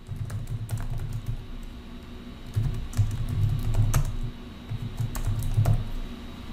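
CSS code is typed on a computer keyboard in bursts of quick, close key clicks, with short pauses and a few sharper keystrokes such as the space bar.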